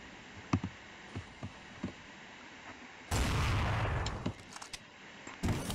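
Gunfire in a GTA-style open-world video game: several sharp, distant-sounding shots crack over a quiet background, then a loud, dense stretch of noisy firing or commotion follows, with one more burst at the end.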